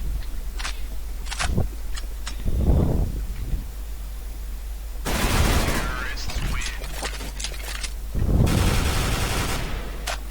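Gunfire in the shooter game CS:GO against bots: scattered sharp shots and a couple of heavier bursts of fire, with footsteps and a player talking throughout.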